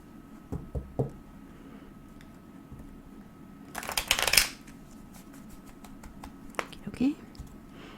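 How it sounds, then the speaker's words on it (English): Tarot cards are shuffled in a quiet room: a few soft taps, then one short, bright riffle burst midway, followed by scattered light clicks and faint whispery sounds. "One more shuffle here."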